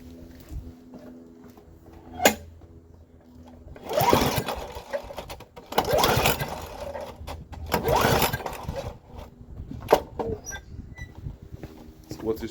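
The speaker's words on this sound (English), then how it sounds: "I'm going to pull the engine over and see if it sparks" A lawnmower engine is pulled over with the recoil starter several times, each pull a short rasping, whirring burst of a few seconds with pauses between, recorded close by, with a clack near the start and light handling noise.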